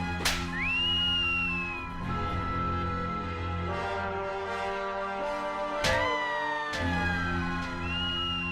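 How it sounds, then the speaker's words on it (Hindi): Sharp sliding whistles from a person in a comedy serial scene, several rising and falling tones over about eight seconds, loud and close against a busy background bed of music and ambient noise. "बंद कर सीटी बजाना, बंद कर।"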